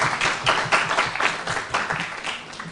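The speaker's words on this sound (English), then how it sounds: "a big round of applause for that idea and for our presenter" A conference audience claps for a presenter, a dense burst of applause from a room full of hands that fades unevenly over a few seconds.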